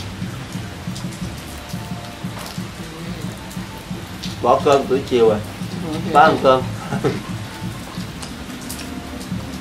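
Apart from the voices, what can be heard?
rain falling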